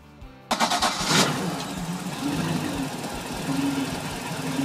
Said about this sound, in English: Here you can see the engine running. Sounds great.